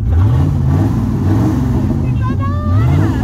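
A Ford Galaxie V8 with its muffler gone, running on a straight pipe, gives a loud, deep, throaty exhaust rumble that swells and falls in rev surges close by, with no voices over it.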